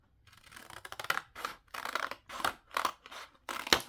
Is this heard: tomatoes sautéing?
no